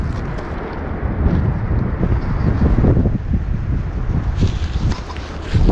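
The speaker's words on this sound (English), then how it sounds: "we're on a windy day" Gusty wind blows across an outdoor dump site in Maine, a loud steady rumble buffeting the microphone and swelling slightly in the middle, with no voices.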